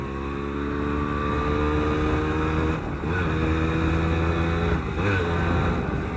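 A fully restored Max R100 two-stroke motorcycle is ridden, its engine giving a steady, loud, buzzing drone close by, with slight pitch shifts as the throttle changes.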